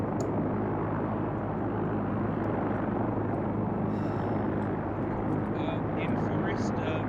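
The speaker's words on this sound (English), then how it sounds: "It's a helicopter. It's landing to our west-southwest." A video game helicopter landing nearby: a steady, loud rotor drone rumbles throughout, with faint higher noises drifting in over it.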